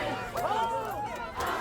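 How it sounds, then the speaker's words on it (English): A crowd of protesters in Memphis shouts together, a loud wash of raised voices with a strained cry rising near the middle, sustained through the stretch and swelling again at the end. "the crowd is wanting all of them released"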